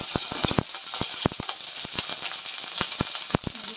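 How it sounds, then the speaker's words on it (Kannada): Mustard seeds and curry leaves fry in hot oil with a steady close sizzle broken by sharp, scattered pops and crackles at an uneven rhythm, with no voices. "ಸ್ನೇಹಿತರೆ ಸಾಸಿವೆ ಹಾಕ್ತಿದ್ದಂಗೆ ನಾನು ಸ್ವಲ್ಪ ಕರ್ಬೇವು ಸೊಪ್ಪು ಕೂಡ ಹಾಕ್ತೀನಿ"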